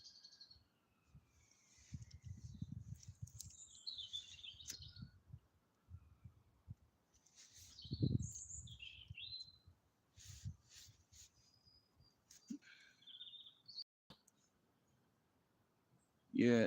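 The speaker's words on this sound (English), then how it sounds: "I come out and listen to the birds" Birds chirping in a quiet garden, scattered faint high calls and trills over near silence, with soft low bumps, rustles and a brief louder knock near the end.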